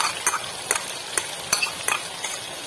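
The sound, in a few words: yogurt added and stirred into sizzling chicken karahi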